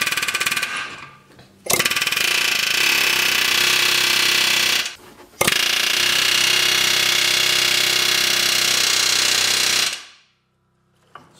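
Loud pneumatic air hammer separating a ball joint on a Nissan Juke front lower control arm rattles in two long sustained bursts with a brief pause between, close and harsh, then cuts off to quiet.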